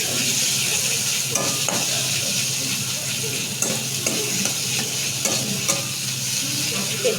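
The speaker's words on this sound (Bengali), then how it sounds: "একটু হালকা একটু ভেজে নেব।" Paneer frying lightly in a pan gives a steady, close sizzle and hiss with a few soft scrapes and clinks of stirring scattered through.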